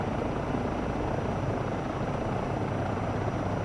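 A simulated helicopter with an enclosed tail rotor flies in MSFS 2024, giving a steady, dense rotor drone and engine roar that holds constant and fairly loud throughout, with no talk.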